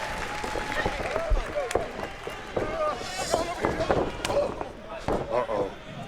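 A wrestling crowd in Dallas cheers during a Texas Bullrope Match, with a steady roar, claps and sharp ring impacts running under continuous commentator talk.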